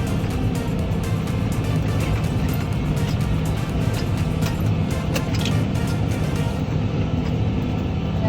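A tractor pulls a grain cart during an Indiana corn harvest, its engine a loud, steady, close drone throughout.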